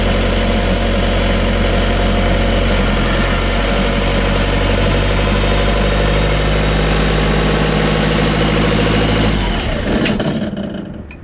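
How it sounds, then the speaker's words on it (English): A refrigeration reefer unit's diesel engine runs at a steady, loud, close idle with a dense mechanical drone, then is shut off near the end and winds down to quiet. "we've just started up the reefer unit, we've let the oil circulate"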